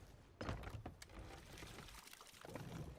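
Water splashing and sloshing below a boat, irregular soft splashes and thumps at low level, with a louder surge near the start and another toward the end.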